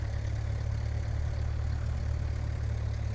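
Flysimware C24R light aircraft engine in a flight simulator game, a steady droning idle with an even low pulsing rhythm, close and continuous with no talk.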